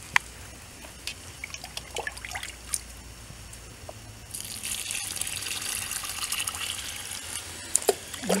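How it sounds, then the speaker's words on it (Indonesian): Water pours from a container onto soil in a polybag for planting water spinach; scattered drips first, then a steady splashing gush that continues to the end, close by. "Maka kita tinggal siram pakai air agar tanahnya itu basah."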